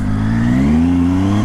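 A motorbike engine on the Great Ocean Road drones steadily as traction control intervenes, a loud close-up tone holding level then rising slightly and settling, with no voices.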